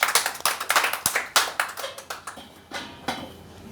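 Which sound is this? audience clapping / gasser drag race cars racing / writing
audience clapping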